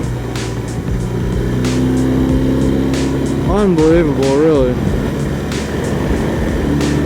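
A BMW R1200 RT motorcycle engine drones steadily at speed and rises briefly in pitch as it is wrung out, heavy wind rush all around, while the rider talks over it.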